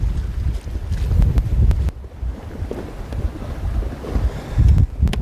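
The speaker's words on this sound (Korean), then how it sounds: "낚시 시작할 때부터 어, 터진 바람이 지금 더 심해졌네요" Strong wind at sea buffets the microphone during cuttlefish fishing off Goheung, with loud, gusty roaring rising and falling in waves over rough water and no talking.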